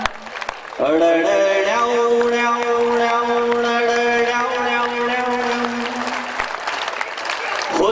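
A live audience at the Jhankar 2015 grand finale stage show claps loudly and steadily for several seconds, a dense wash of applause mixed with sustained musical tones that fade out near the end.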